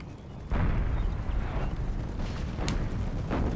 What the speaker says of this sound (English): massive artillery barrage.